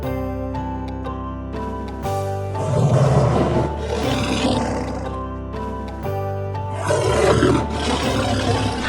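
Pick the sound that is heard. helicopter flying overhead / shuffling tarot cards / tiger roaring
tiger roaring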